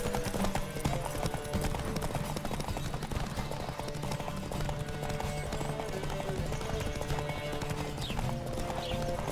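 Horse hooves pound in a steady galloping clip-clop in The Witcher 3 on a dense, continuous bed of game sound with music underneath, the beat loud and unbroken.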